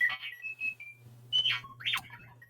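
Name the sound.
alarm clock ringing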